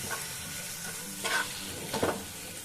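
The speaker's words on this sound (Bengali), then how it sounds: "এখন এগুলোকে খুব সুন্দরভাবে আমি একটু কষিয়ে নেব।" Fish frying in a little oil in a pan over a medium flame, with no garlic or onion, as it is stirred and browned. A steady sizzle runs underneath, and a few louder scraping stirs break through it.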